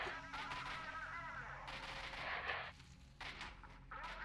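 Shotgun blasts in the game S.T.A.L.K.E.R.: Shadow of Chernobyl, a few sharp booming shots at moderate level with brief gaps, among other combat noise.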